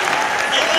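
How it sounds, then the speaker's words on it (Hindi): Brief burst of dense audience clapping at a comic Hindi poetry gathering, loud and steady with no pauses. "तालियां बजाते जाओ, देखो जहां बात है।"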